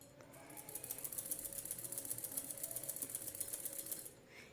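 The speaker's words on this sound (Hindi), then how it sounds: "धीरे धीरे सिलाई लगाते जाएंगे।" A sewing machine runs steadily, stitching slowly along the sides of a zipper on fabric for a small organiser, with a fast, even mechanical chatter at moderate level and no talk over it.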